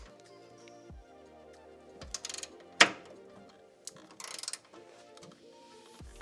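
A ratchet snugs 12mm nuts on Miata brake parts, making short bursts of rapid clicking with a few metallic clinks and taps between them, close and fairly clear, with no voice.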